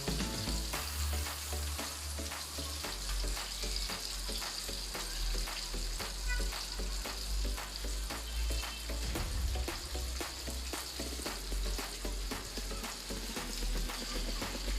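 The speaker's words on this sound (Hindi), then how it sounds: "ये देखें कितनी ज़बरदस्त ये क्रिस्पी क्रिस्पी सी फ्राई हुई है।" Chicken broast pieces fry in hot oil with a dense, steady crackling sizzle that runs unbroken throughout. Low rumbling and occasional bubbling sit underneath, and no one speaks.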